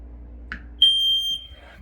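A household smoke alarm being tested gives a single sharp, high electronic beep lasting about half a second, close and loud, after a brief click, with no talking.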